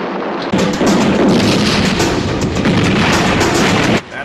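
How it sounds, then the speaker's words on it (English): Explosions from the action film Strike Commando erupt suddenly as a loud, sustained rumbling roar with crackling bursts, lasting several seconds before cutting off abruptly. "These explosions look awfully familiar"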